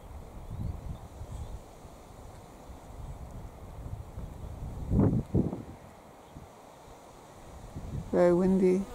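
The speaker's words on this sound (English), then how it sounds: "Very windy." Wind gusts outdoors, a low rumbling buffeting against the microphone that rises and falls in surges, with a bird call and faint rustling near the end; a person speaks briefly.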